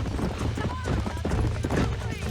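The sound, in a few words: horses galloping in Red Dead Redemption video game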